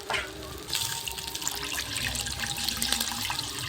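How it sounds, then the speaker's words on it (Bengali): Water is poured from close by into a pan of fried fish curry masala, a steady running splash after a brief soft start, with no talk heard. "আর একটু জল দিতে হবে"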